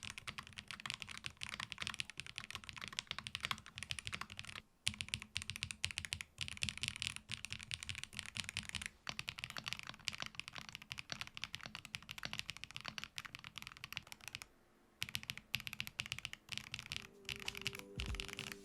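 A Wooting keyboard in a Holy 60 case with Geon Raw switches is typed on steadily, producing dense, crisp clacking keystrokes close to the mic with a few short pauses and no voices.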